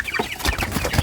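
Upgraded native chickens and Brahma hens at a small backyard poultry farm cluck close by in a short, dense burst of overlapping calls, with no talk.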